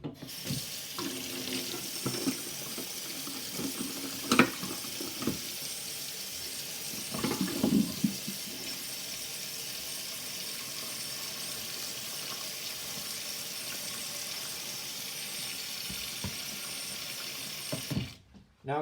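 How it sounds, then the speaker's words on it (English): Hot water runs from a tap into a sink to clean a teapot, a steady close rushing stream for most of the stretch with a few small clunks and knocks, stopping near the end. "And now we're just going to let the sink fill up."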